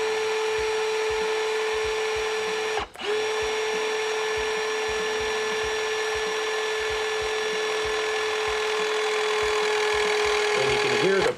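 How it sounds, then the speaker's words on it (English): Hydraulic pump of a BV-200 balanced drive system powered by a Milwaukee drive, a loud steady whine with a strong tonal hum that dips briefly once, then runs on and rises slightly near the end. "And you can hear the pump."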